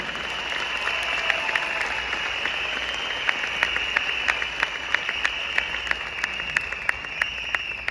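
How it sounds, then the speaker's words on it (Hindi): Applause from a seminar audience at a Modicare anniversary celebration, a thin steady clapping texture punctuated by a few louder, sharper individual claps standing out nearby, with no voices over it. "तो आप अपने लिए जबरदस्त ताली बजाइए।"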